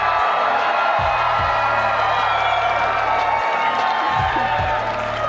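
Audience at a Roseanne Barr comedy show clapping and cheering, a dense continuous crowd roar with whoops, steady and loud throughout.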